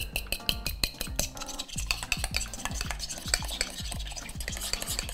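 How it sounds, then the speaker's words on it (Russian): Rapid, continuous stirring of eggs in a bowl, with a utensil scraping and clinking against the sides in a steady rhythm, close up. "Сбивать не надо, я просто беру и перемешиваю."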